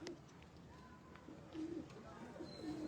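Rare Jansra breeder pigeons in Faisalabad give soft, low coos, several faint repeated calls over quiet background noise.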